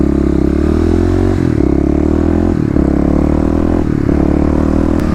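A Kawasaki KLX351 motorcycle engine runs loud and close through its exhaust, a deep steady drone that rises and dips slightly in pitch as the throttle shifts, with brief gear-change breaks.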